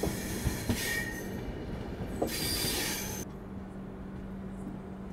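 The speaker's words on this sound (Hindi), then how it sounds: "सेंट्रल रेलवे की राजधानी हमें पीछे छोड़ने वाली, ओवरटेक करने वाली यहाँ पे" The Rajdhani Express of Central Railway passes while overtaking at Keetham railway station, with rumbling wheels, clacks and squeals up close that later fade to a quieter rumble.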